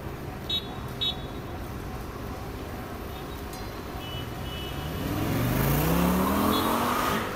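Lamborghini supercars driving through city streets produce a low engine rumble that swells into a louder rev toward the end, with a few faint beeps early on.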